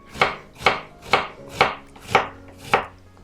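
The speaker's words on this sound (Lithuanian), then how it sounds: "Va, kvadračiukais. Nedideliai supjaustyti." A knife chops pumpkin into small cubes on a cutting board in six crisp, evenly spaced strokes about half a second apart, loud and close with no talking.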